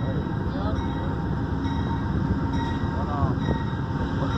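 Amtrak passenger train slowing to a stop, a steady broad rumble of rail cars with faint squealing brake tones, continuous and fairly close.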